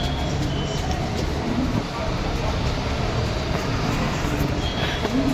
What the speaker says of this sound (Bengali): এই যে এবার চলে এসেছি দিল্লি মেট্রো স্টেশনে।